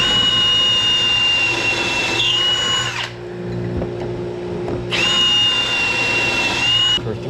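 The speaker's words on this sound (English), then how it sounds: "Some pocket holes real quick." A power drill bores pocket holes in 2-inch wood stock, whining steadily at high pitch for several seconds, pausing briefly, then running again, loud and close.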